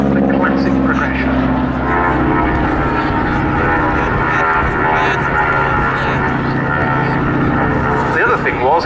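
A North American T-6 Harvard propeller trainer flies at an air show, its engine drone steady and loud throughout, with a commentator's voice running over it.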